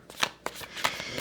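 A tarot card is slid from the deck and laid down during a reading, giving a few quick, soft papery flicks and taps close to the microphone, alone without speech.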